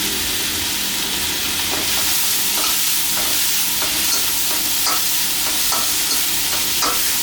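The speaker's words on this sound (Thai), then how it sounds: "เราจะผัดให้หอมหมูใหญ่ใสนะฮะ" Onions stir-fried with naem, Thai fermented pork, in a hot pan, a loud continuous sizzle with rhythmic scraping strokes of the spatula every half second or so, close up and without talk.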